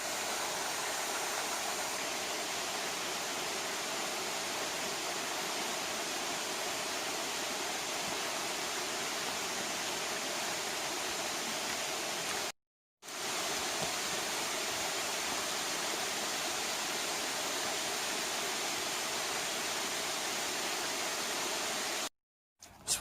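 Water pours steadily at Scott Goldie Creek dam, a constant broadband roar that holds at even loudness, cut by two brief moments of silence.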